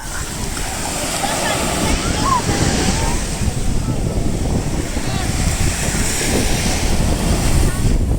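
Strong surf pounding a beach in Batangas, a continuous heavy roar of breaking waves with wind buffeting the microphone and people talking and calling out nearby.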